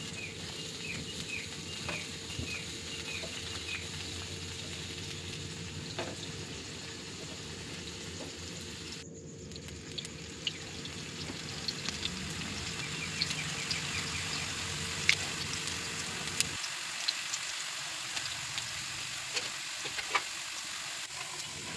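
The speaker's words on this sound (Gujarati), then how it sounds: "આ રીતે બધી ગોઠવી મીડિયમ ગેસ ઉપર આપણે ફ્રાય કરી લઈશું" Potato chips frying in oil in a pan over a medium gas flame give a steady, continuous sizzle that holds throughout with no talking.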